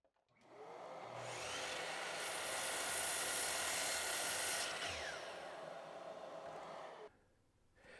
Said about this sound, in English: I'll just set that up in the miter saw